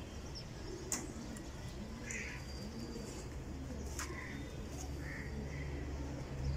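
Desi pigeons coo faintly and steadily in a quiet setting, with a few soft chirps and a distant crow-like call now and then.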